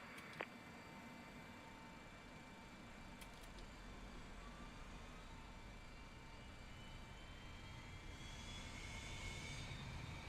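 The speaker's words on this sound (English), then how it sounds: "Start right engine. Starting right engine." An MD-83 jet engine spools up in a flight simulator cockpit, a steady broadband whine and rumble with a rising high tone that builds louder over the final seconds, with a brief click near the start.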